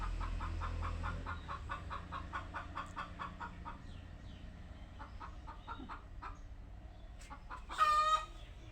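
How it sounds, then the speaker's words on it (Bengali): A white hen clucks while laying an egg: a quick, regular run of soft, fairly distant clucks, then sparser calls and one sharper, louder squawk near the end. "সাদা মুরগিটা ডিম পাড়তেছে আর এটা হয়তো ডিম পাড়বে, শব্দ করতেছে"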